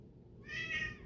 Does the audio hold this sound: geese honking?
no